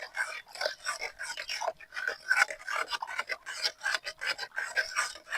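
A humic acid mixture for a dragon fruit plant is stirred vigorously in a container, giving a rapid run of scraping, swishing strokes in an uneven rhythm, close and fairly quiet.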